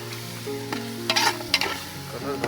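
Crab gravy sizzles steadily in a frying pan, with a few louder scraping bursts as a spoon stirs it, close by and without talk.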